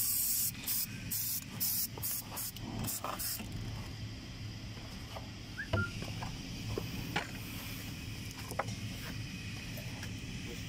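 Aerosol can of Fluxo 3 black magnetic particle inspection spray hissing in short bursts during an MT weld check, a few loud sprays early on followed by quieter handling sounds and faint creaks in an industrial setting.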